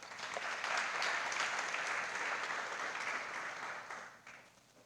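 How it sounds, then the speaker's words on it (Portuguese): A church congregation applauds in a sustained, even wash of clapping at a faint, distant level, fading out toward the end. "Você pode dar um aplauso, ficar de pé?"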